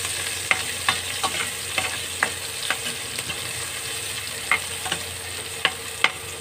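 Chopped onion sautéing in a hot pan for Filipino adobo, a steady soft sizzle broken by sharp clicks of a utensil scraping and stirring at irregular intervals, close and alone.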